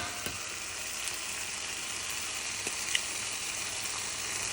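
Two eggs sizzling steadily in a hot pan for cauliflower fried rice, a constant bright crackle with a few small pops and no voices over it.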